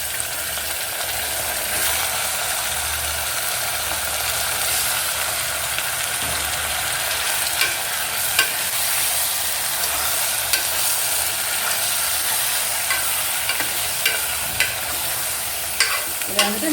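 Mutton frying with onions in a pan for a Bakrid mutton kuzhambu, a steady broad sizzle with repeated scraping stirs and small clinks of the spoon against the metal, close and continuous without talk.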